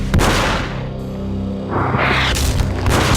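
A gunshot in the video game Max Payne, a heavy booming blast with a whooshing tail, followed by another sharp report amid rumbling game ambience.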